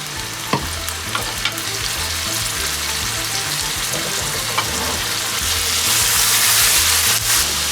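A little water is splashed into crushed red chilli and spices frying in a cooking pan, giving a steady close sizzle and bubbling that grows slightly louder toward the end, with no talking.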